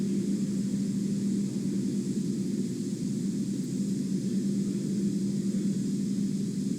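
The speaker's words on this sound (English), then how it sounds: "Stage 1 landing burn." A Falcon 9 first stage fires its landing burn, heard as a steady, constant roar with a low droning hum running through it, unchanging for several seconds, with no voices.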